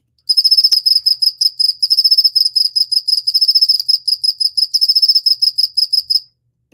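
A male cricket sings a clear, pure-tone song: a rapid trill followed by sets of paired pulses, repeating in a steady rhythm, loud and close with no other sounds.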